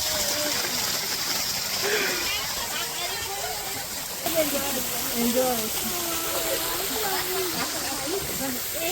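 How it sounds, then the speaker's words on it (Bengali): A mountain waterfall in Meghalaya gushes in a loud, continuous hiss of falling water, heard from a boat, with a person speaking over the rush. "দারুন পাহাড়ি ঝর্ণা"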